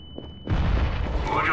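Grenade thrown and decoy deployed in a first-person shooter video game: a faint tone, then a sudden loud booming blast that rolls on as sustained rumbling noise, with a voice speaking in the game around it.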